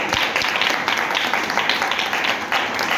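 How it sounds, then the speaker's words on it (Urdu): A church congregation breaks into loud, dense applause, many hands clapping together in a steady, full wash that fills the room without pause. "زوردار تالی یسوع کے جلال کے لیے آپ کا۔"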